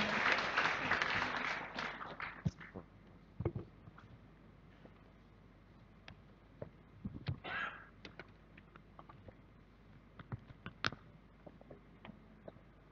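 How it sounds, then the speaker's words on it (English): Audience applause at a campus event honoring speakers, discussants and a moderator, dense for the first two seconds and then thinning to scattered claps and small noises in a hall. "please give big round of applause for today's speakers, discussants, and moderator"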